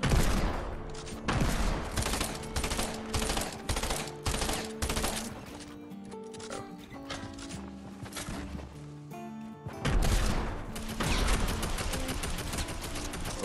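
Rapid gunfire in a Fortnite Battle Royale match, dense bursts of automatic shots and single cracks coming loud and close in several volleys with brief pauses between them.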